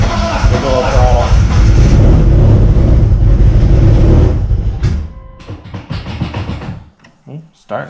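A restored 1998-era Dodge Neon ACR with a big cam is revved hard with the throttle, a loud rising roar that cuts off abruptly, followed by quieter clatter and brief voices.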